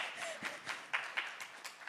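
Audience clapping and finger snapping, sparse and light, with scattered sharp pops spread over a couple of seconds at moderate distance.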